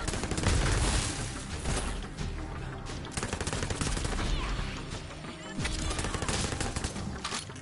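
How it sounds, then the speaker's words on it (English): Rapid, dense gunfire in the shooter video game Borderlands 3, with bursts of automatic fire and heavy booms running nearly continuously and loud over several seconds. "I'm accidentally shooting my teammates though, because they're getting in my way."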